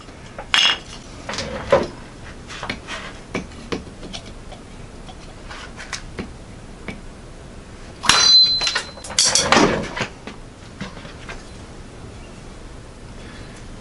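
A thin chopper knife strikes hard African blackwood in a few sharp, close knocks. They are spaced apart at first, then a louder cluster of impacts follows, with quiet between them.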